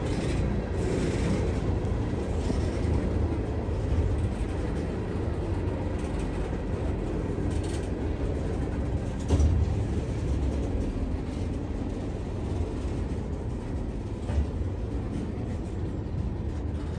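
A long CSX freight train with distributed power units rumbles steadily across a trestle in Kenova, West Virginia, a loud continuous roar of wheels and engines with occasional clanks and squeals, no voices.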